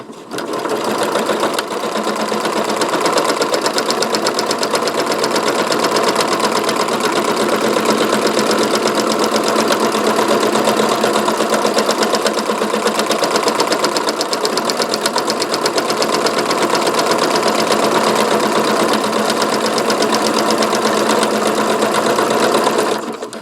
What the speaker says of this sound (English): we just keep the gas pushed down and it will stop once it's completed the